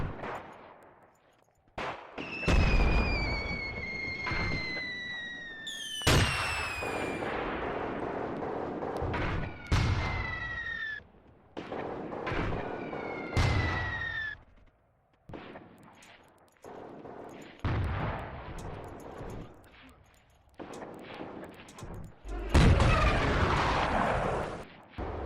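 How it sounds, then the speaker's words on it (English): Mortar and artillery fire in the Graviteam war game, with repeated loud booming blasts and crackling impacts in irregular bursts, some shells whistling down before landing, near and far across the battlefield. "There's some mortars, however, that are reaching the troops."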